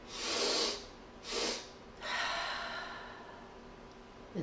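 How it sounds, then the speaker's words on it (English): Breathwork exhalations come through as long, airy, close breaths during a paced stress-reduction breathing pattern: two strong blowing exhales, then a longer, softer breath that fades out. "I'll start again by exhaling to begin"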